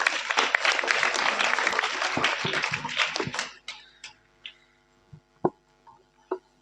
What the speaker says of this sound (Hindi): जोरदार तालियां छोटी के लिए।